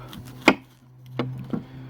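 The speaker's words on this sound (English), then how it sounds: "when you've collected enough apples, and then the idea is to chop." Apples are chopped for making cider, with three sharp knife strikes against a board spaced unevenly over a low steady hum, close and fairly loud.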